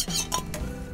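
A spoon stirs semolina into milk for sooji kheer in a pot, a brief close scrape and clink over a soft simmering hiss, with no talk.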